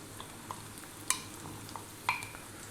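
Mushrooms stir-frying in a pan on very high heat: a faint steady sizzle with a few sharp scraping and tapping hits from the utensil as the food is tossed, heard alone.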